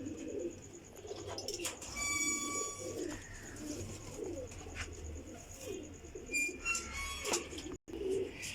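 Domestic flying pigeons coo softly in a low, repeated rhythm, mixed with bird chirps and light rustling; the calls are close but quiet, and no one speaks.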